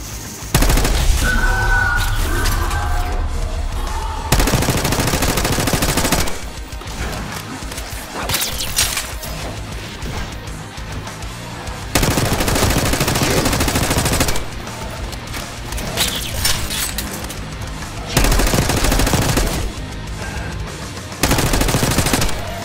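Bursts of XM4 rifle fire in Call of Duty: Black Ops 6, loud rapid automatic volleys in several separate stretches with short gaps between them.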